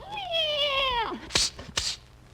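A dog imitating a cat's meow, a drawn-out mewing wail in an old-time radio comedy, followed by two sharp bursts of noise, up close and alone.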